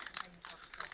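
Plastic wrapper of a Thomas Minis toy crinkled and torn open at close range, with bursts of bright rustling across a short moment, a voice nearby in the background.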